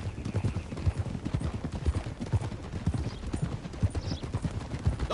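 Horse hooves clip-clop steadily on a trail in the video game Red Dead Redemption 2, several horses trotting together in a dense, continuous rhythm with no talk.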